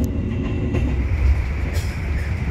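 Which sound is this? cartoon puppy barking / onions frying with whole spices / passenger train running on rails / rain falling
passenger train running on rails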